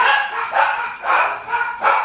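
Several dogs bark in loud, repeated bursts inside a home as someone arrives through the garage. The barks come in about four close, rapid clusters.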